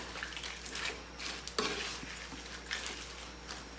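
Mantis shrimp being stirred in a pan with a melting shrimp cube, soft continuous scraping and sizzle with a few sharper utensil knocks, fairly quiet and close.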